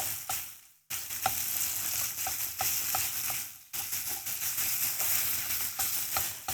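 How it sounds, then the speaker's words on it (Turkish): Minced meat and onions fry in a pan with a steady loud sizzle, broken by a few stirring scrapes and two short pauses, with no talking. "soğanlarımla beraber kıymamı kavuracağım biraz"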